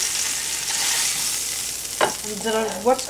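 Golden-brown pork chops frying in a pan give a steady hiss and sizzle, close and loud, with a few scraping or clattering touches near the end.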